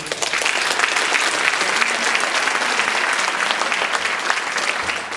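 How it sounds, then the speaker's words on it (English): A luncheon crowd at a chamber of commerce event gives a big round of applause, steady dense clapping that holds at an even loudness for five seconds without pause. "Just give him a big round of applause, please."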